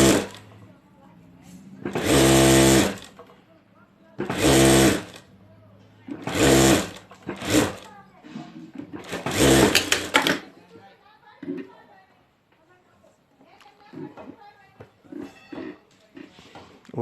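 A sewing machine stitches a handbag handle in short loud bursts of rapid whirring, roughly four runs separated by pauses, close by, followed by softer handling noises and quiet rustling.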